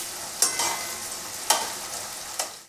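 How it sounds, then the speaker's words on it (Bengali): Panch phoron five-spice seeds and whole dried red chillies frying in hot oil for a potato curry, a steady crackling sizzle close by with three sharp stirring scrapes spaced about a second apart, no voices. "এবার তেলের মধ্যে আমি একটু 5 ফোড়ন আর কয়েকটা গোটা শুকনো লঙ্কা দিয়ে দিয়েছি"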